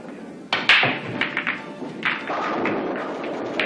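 During a game of rotation pool, billiard balls collide in a series of sharp, close knocks and clacks, several scattered hits followed by a steady rolling rumble.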